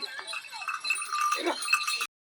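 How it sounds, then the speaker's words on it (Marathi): Goats bleating nearby at a rural home, several wavering cries overlapping in a steady run for about two seconds, with a faint bell-like ring mixed in. "शेळ्या आल्यात आणि आता दीपाली मॅडमला म्हणलं शेळ्या बांधा"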